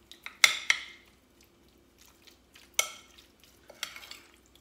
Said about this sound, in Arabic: راح نخلط هاد الدجاج كله مع التوابل